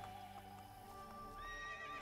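A horse in the video game Assassin's Creed: Brotherhood whinnies in a shaky, rising neigh over a steady low background hum, with faint hoof clops mixed in.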